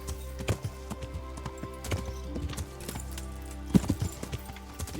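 Steady clip-clop of a horse trotting in a video game at an even rhythm, fairly close, over a constant low hum with occasional louder hoof strikes.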